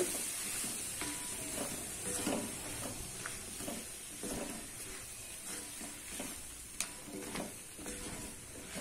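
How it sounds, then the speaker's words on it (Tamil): Mixed vegetables sautéing in hot oil for poricha kuzhambu, a steady close sizzle with repeated stirring scrapes running throughout at even loudness. "இந்த காய் நல்லா வதக்கி விடலாம். எண்ணெயில் நல்லா வதங்கும் போது நல்லா கொஞ்சம் ருசியா இருக்கும் குழம்பு"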